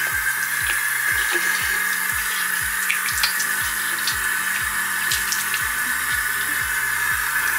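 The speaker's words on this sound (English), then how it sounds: "I'm rinsing it off right now." Running tap water rinses a teeth-whitening tray at a bathroom sink, a steady broadband flow with a rhythmic low pulsing underneath, close and continuous with no talking.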